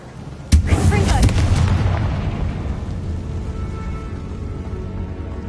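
Confringo fire spell in Hogwarts Legacy, cast inside a tomb: one sharp, loud blast followed by a long rumbling decay that fades over several seconds.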